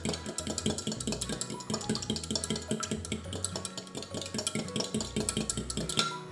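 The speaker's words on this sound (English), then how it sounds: "I'm just going to whisk my liquids together" A whisk beats liquids together in a bowl with fast, continuous, rhythmic clinking and scraping strokes that run steadily throughout at close range.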